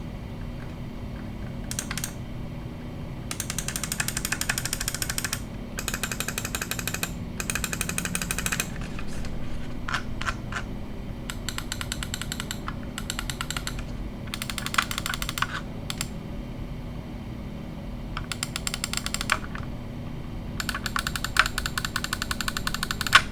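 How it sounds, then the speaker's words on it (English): Ajazz AJ199 mouse with transparent Huano blue shell pink dot switches, clicked in sharp bursts of rapid, crisp clicks separated by short pauses over a steady low background hum, with no talking. "It has the transparent Huano blue shell pink dot switches in them. So let's go ahead and drop a sound test for you guys."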